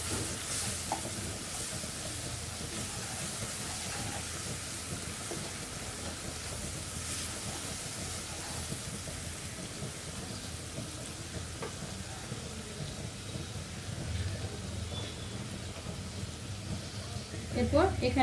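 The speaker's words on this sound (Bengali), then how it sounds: "এরপর রসুন বাটা 1 চামচ দিলাম। দিয়ে ভালোভাবে ভেজে নেব এগুলো।" Garlic paste and ground spice paste fry in a pan, giving a steady, fairly quiet sizzle and hiss that carries on unbroken throughout.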